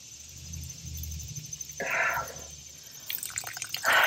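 Water escaping from a faulty automatic drip irrigation timer in a garden, heard as a low steady gurgling flow with brief hissing sprays and splashes, close by and with no speech.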